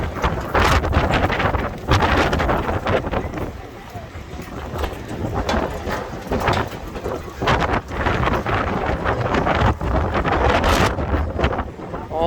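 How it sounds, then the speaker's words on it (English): Strong gusting wind buffets the microphone on a beach street at Hermosa Beach, Pier Avenue, roaring and rumbling in uneven surges throughout while someone talks over it. "Too windy out here."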